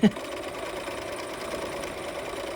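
A sewing machine runs steadily along a seam in a quilt block, giving an even mechanical hum with a small click at the start, close and without talk.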